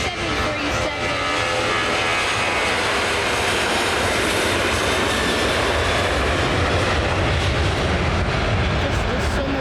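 Boeing 737 airliner engines at Manchester Airport give a loud, continuous roar that fills the whole stretch without letting up.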